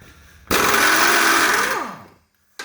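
A 1/2-inch Earthquake XT impact driver works on badly rusted bolts, a loud, continuous mechanical whir with a hammering rattle that runs for about a second and a half, then spins down with a falling pitch and stops.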